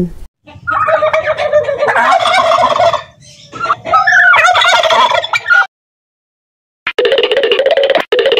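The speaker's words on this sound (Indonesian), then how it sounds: "kalkun" A turkey gobbles loudly and close by in two long rattling bursts, then a brief pause before another gobble begins.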